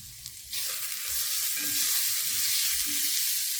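Onions with salt stirred in a pan over a medium flame for a masala chicken curry, giving a steady bright sizzle that rises after a brief start, with soft scraping strokes of the spoon beneath.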